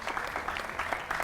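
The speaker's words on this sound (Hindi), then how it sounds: "जोरदार तालियों से उनका भी स्वागत कीजिए।" A television studio audience at a news debate show applauds to welcome a guest, a brief, even patter of many hands clapping at moderate volume.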